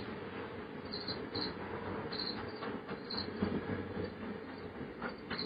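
A train rumbles steadily past at a distance, its low continuous roar mixed with chirping crickets and occasional high squeals.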